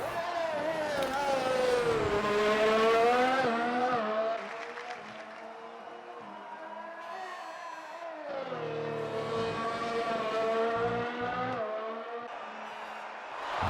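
Race cars in a sim racing game on the Baku street circuit scream past in continuous engine drone, pitch rising and falling through acceleration and braking, loud and sustained without a break.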